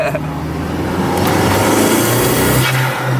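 Honda Civic fitted with a swapped Volkswagen 1.8T engine revs loudly and steadily up close, a dense mid-range engine roar that builds over a few seconds with faint talk underneath.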